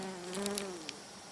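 A bee caught in a bee trap buzzes steadily and close up as it struggles to escape, with a few faint ticks and taps as it moves.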